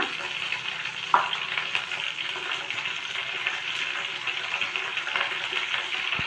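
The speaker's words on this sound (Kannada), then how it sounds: "ಈಗ ಎಣ್ಣೆ ಬಿಸಿ ಆದಮೇಲೆ ಸಾಸಿವೆನ ಹಾಕೋಣ ಇದರಲ್ಲಿ" Mustard seeds sizzling and crackling in hot oil in a home kitchen pan, a steady close frying hiss with one sharp pop early on, no talking.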